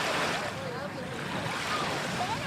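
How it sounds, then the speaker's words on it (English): Steady surf washing against the Chesapeake Bay shore at Rock Hall in Kent County, a continuous broad rush of breaking water with some wind noise, close and fairly loud throughout. "Waves crash around the Pearl of the Chesapeake."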